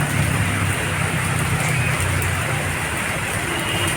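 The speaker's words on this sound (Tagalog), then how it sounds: "Sobrang ulan." Heavy afternoon rain in Pasig City pours steadily as a dense, continuous hiss with no let-up, and a faint low rumble runs underneath.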